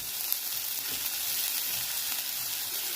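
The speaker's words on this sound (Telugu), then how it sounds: "ఇవి కొంచెం ఉల్లిపాయలు కొంచెం ఎర్రగా అయ్యే వరకు వేయించుకోవాలి" Onions with asafoetida fry in ghee, giving a soft, even sizzling hiss that runs continuously without breaks. No voices.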